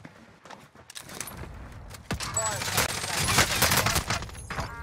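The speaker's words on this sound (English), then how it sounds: "Under hostile fire." Gunfire from the video game Warzone Rebirth, with bursts of shots and impacts in a dense, busy mix of game effects, with a voice chattering over the action.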